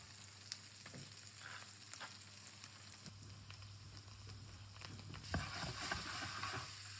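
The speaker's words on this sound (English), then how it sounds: "Swirl the butter around" Mushrooms fry in swirled butter with black truffle, a soft continuous sizzle with a few light clicks of a pan, swelling louder toward the end.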